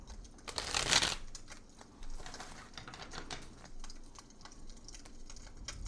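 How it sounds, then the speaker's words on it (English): Tarot cards are shuffled in several quick riffling bursts, the loudest near the start, followed by softer papery shuffling and tapping, close by. "let's do one more shuffle"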